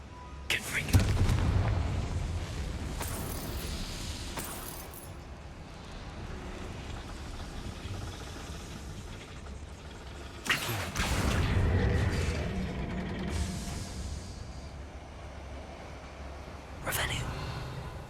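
Confringo explosive spell blasts in the video game Hogwarts Legacy: two heavy booming bursts with rumbling tails, one early and one midway, plus a sharper hit near the end, over game ambience and some talk.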